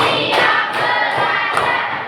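Group hand claps land in an evenly spaced rhythm, about four strikes, over a constant background hum of many people in a room during a numbered clapping routine.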